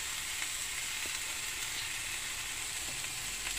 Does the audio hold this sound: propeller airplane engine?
no